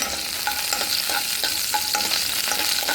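Beef chilly frying in a hot pan with oil, a steady close sizzle broken by the repeated scrape and stir of a spoon, no voices.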